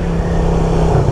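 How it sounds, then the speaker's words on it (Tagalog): Raider 150 motorcycle engine heard while riding, a loud, close, steady low drone with no talk. "Lain, stroll ko lang yung Raider"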